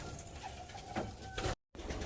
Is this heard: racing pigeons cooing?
yes